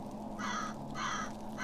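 A bird caws three times in steady succession in a hidden object puzzle game, loud and close, with no talking over it.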